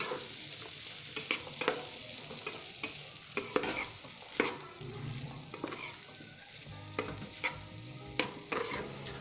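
Potatoes and spices for Bihari-style aloo bhujia being stirred in a non-stick pan, repeated scraping strokes over a low sizzle, close and continuous without talk.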